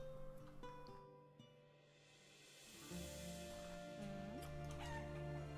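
Chickens cluck and crow in the farming-village game Life is Feudal: Forest Village, the calls layered over steady background music with a rising, brighter passage midway.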